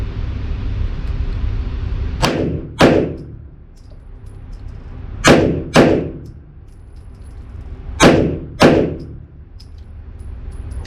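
Three control pairs from a micro pistol, such as an S&W Shield Pro, Springfield Hellcat or Ruger, each pair two sharp, loud reports close together, the pairs spaced a few seconds apart over steady background hum.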